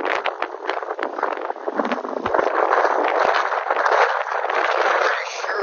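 Strong wind roars across the Maspalomas sand dunes, buffeting the microphone in loud, continuous gusts that swell and ease, close and rough throughout with no voices.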